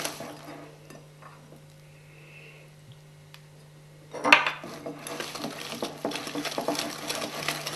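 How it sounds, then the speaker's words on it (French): A compact mix of almond powder and sugar, loosened with rum and stirred for a galette des rois frangipane, starting with quiet kitchen sounds and then a louder bout of scraping and utensil clatter against the bowl. "Ajoutez le rhum pour vous aider à remuer."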